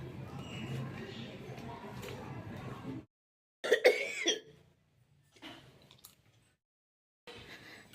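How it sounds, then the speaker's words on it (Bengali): A person who is unwell coughs indoors: a run of harsh close coughs, then a sharp burst after a pause, with quieter throat sounds trailing off. "কাশিটা থামছে না"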